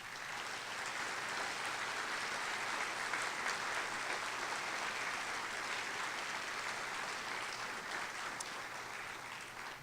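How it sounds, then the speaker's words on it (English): Audience applause for Hall of Famers at a sports ceremony, a dense, steady wash of many hands clapping that continues for about ten seconds, heard from a short distance with no talk. "give our Hall of Famers another big round of applause"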